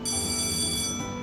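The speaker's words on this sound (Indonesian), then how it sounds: "itu suara bunyi bel sekolah" An electric school bell rings with a continuous, shrill metallic tone for about a second, loud and close, then cuts off.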